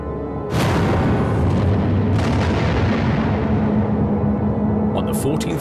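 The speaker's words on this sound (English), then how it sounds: "a British steamer in the area reports hearing a loud explosion" A loud, sustained explosion-like rumble attributed to a sunken submarine, with a sharp onset followed by a heavy low roar and a second burst partway through, all dense and booming.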